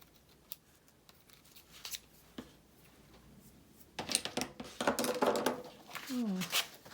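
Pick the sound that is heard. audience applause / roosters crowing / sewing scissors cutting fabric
sewing scissors cutting fabric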